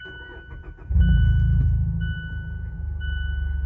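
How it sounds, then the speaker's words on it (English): A 2018 Mazda engine cranks briefly and then catches, settling into a steady close idle, with a couple of faint electronic chimes sounding over it. "So I am going to turn on the car here in a minute."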